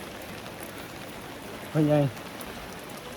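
Steady morning rain falls in Muang Ngoi, northern Laos, a soft, even patter that continues throughout, with one short spoken word partway through.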